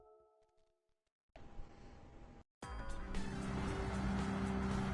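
A race car in Gran Turismo 7 with its engine droning steadily, cutting out briefly, then returning louder and rising into a sustained, strained roar alongside faint tire noise, loud and close.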